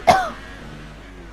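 One sharp cough, close and loud, then a quiet fade with faint background hum, during an F1 2018 racing game session.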